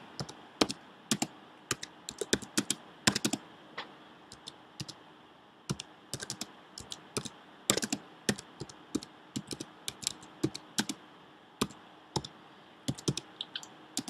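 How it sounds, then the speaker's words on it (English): Someone types on a computer keyboard in uneven, halting bursts of close key clicks with short pauses between words, steady and moderately quiet in a still room. "Even though I type for a living, you'll note I'm not very good at it."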